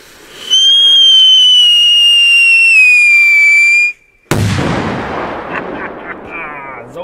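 A Scream 5 Polish firecracker lets out a loud, steady rising whistle for a few seconds, falls briefly silent, then bursts with a sharp, powerful bang that rolls off into a long, crackling decay.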